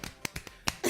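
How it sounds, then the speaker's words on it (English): A few sharp, separate hand claps from one person, spaced irregularly and fairly quiet, in a talk-show studio setting during an entertainment news segment. "Clap for me."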